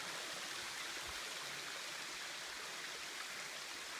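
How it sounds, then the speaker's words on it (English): The roughly 209-foot waterfall at Hemmed-in-Hollow, heard as a steady, faint, broadband rush of falling water from some distance, unbroken and with no voices. "100-foot waterfall."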